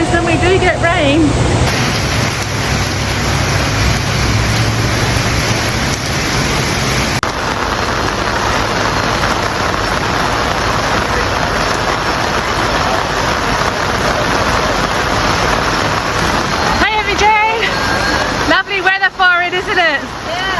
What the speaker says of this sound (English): it's all like raining outside